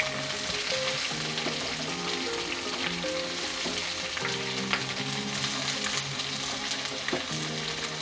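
Onion and capsicum sizzle and crackle steadily in a hot pan for chili chicken, with occasional stirring scrapes and no talking.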